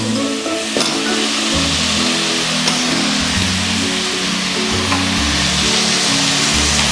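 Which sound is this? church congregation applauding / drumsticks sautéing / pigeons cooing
drumsticks sautéing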